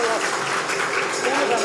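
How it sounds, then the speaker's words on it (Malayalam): An audience at an Onam celebration programme breaks into brisk, continuous applause, dense clapping that carries on for the whole short moment with a voice mixed in. "ഒരു നല്ലൊരു കയ്യടി പോരാ"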